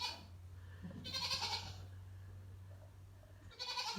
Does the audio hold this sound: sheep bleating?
yes